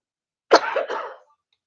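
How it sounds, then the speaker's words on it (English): A single harsh, chesty cough from a person with bronchitis, close and fairly loud. It is a short burst of about three-quarters of a second, set against silence. "I am coughing up a lung again. I definitely have bronchitis this time"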